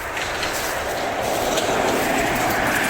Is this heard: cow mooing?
no